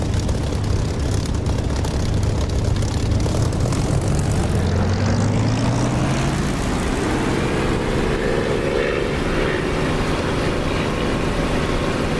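Propeller aircraft engine in the DCS flight simulator game roars loudly and steadily through a takeoff run, its pitch climbing gradually as the engine spools up.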